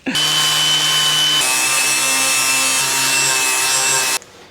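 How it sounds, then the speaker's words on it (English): A welded steel flange on a 1953 GMC is ground back with a loud, continuous high-pitched whine that shifts pitch slightly partway through and runs about four seconds before cutting off sharply. "So let's go ahead and grind it back."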